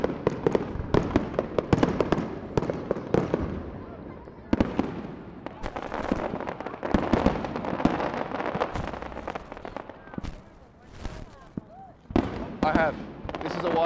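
Fireworks bursting across a city at night, with many dense overlapping bangs and crackles near and far, continuous throughout, with a voice speaking intermittently beneath them.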